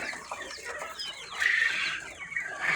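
Young bantam hens in a poultry pen cluck and chatter steadily, close and fairly loud, a busy flock sound with no talk over it.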